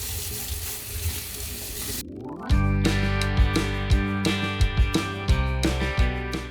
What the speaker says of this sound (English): we're going to go ahead and rinse off all of our cucumbers